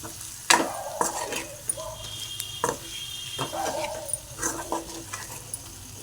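Spoon stirring a mixture of spice, garam masala and coconut powder in a frying pan, a few scraping strokes and clinks over a soft sizzle, close and moderately loud, with no talking.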